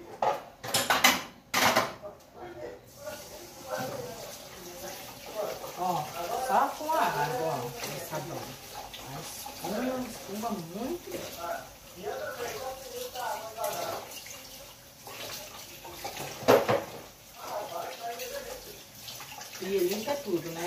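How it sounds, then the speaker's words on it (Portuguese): Dishes being washed in a kitchen sink with soapy water, with faint clinks of crockery and running water heard under steady, continuous talk throughout. "Vou lavar a louça aqui pra ela."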